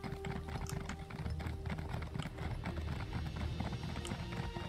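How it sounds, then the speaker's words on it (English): Steady clip-clop of horse hooves from a mount being ridden in The Elder Scrolls Online, a continuous rhythmic trot over an ambient game soundscape. "I can't even mount on my horse properly."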